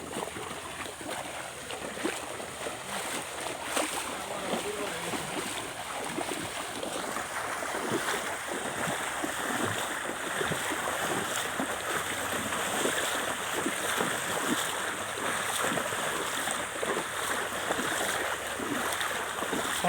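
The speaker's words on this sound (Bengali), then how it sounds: "পানির কি আওয়াজ!" Water rushes through a stream current beside a bamboo grove, a steady broadband wash of flowing water with a constant hiss, moderately loud and continuous, no voices present.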